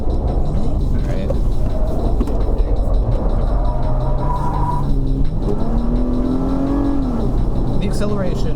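A 2020 Toyota 4Runner TRD accelerates on a winding mountain road, its engine note climbing and shifting in a loud, continuous in-cabin drone while people talk over it.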